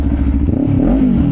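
A loud, throaty SC-Project aftermarket exhaust on a Kawasaki Ninja 500 SE motorcycle rumbles up close with a brief rev rising and falling in pitch, no voices heard.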